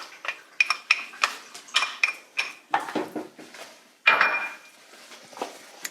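A spoon clinks and scrapes rhythmically against a bowl or pan while egg yolks are stirred into a cheese soufflé sauce, with a steady series of close, light taps and scrapes.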